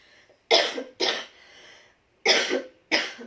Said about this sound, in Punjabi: ਮੈਨੂੰ ਖਾਂਸੀ ਹੈ ਜਿਹੜੀ ਉਹ ਸ਼ੁਰੂ ਹੋ ਜਾਂਦੀ ਹੈ